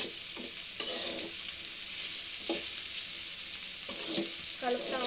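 Okra (bendakaya) stir-fried in a little oil sizzles steadily up close, broken by repeated short scrapes and clinks of stirring.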